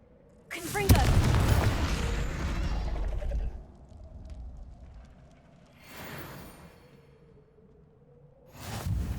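In Hogwarts Legacy, a Confringo explosive spell erupts in a loud, deep boom with a rushing whoosh that fades over a few seconds, followed by softer rumbling swells.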